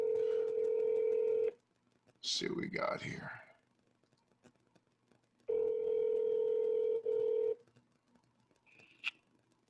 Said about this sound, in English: I'm going to give him a call on the phone, see if we can get him in the Zoom.